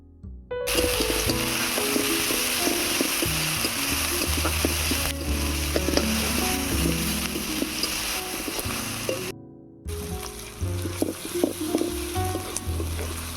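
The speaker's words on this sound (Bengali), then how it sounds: "আদা রসুন পেঁয়াজটাকে লাল লাল করে ভেজে নেব।" Chopped onion with ginger and garlic paste fries in a pan, a loud steady sizzle close by with stirring scrapes, a short break near the end before the frying resumes.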